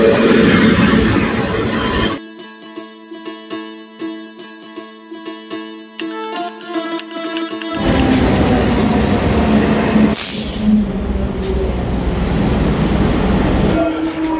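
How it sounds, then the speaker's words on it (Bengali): The Sealdah-Kalyani Simanta local train pulls into a station, opening with loud rumbling, then a long electric horn tone, then louder wheel rumble and clatter as the carriages pass close by. "আমাদের ট্রেন ঢুকছে শিয়ালদাহ কল্যাণী সীমান্ত লোকাল।"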